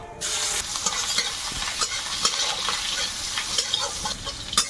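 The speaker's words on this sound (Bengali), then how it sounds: "রসুনটা হালকা ভেজে নিয়েছি" Garlic and nigella seeds frying in oil crackle with a bright, busy sizzle, punctuated by repeated clicks and scrapes of stirring at close range, steady throughout with no speech.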